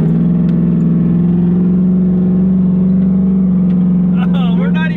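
Truck engine droning steadily while driving through sand, a loud close hum with little change in pitch, and a voice speaking briefly near the end.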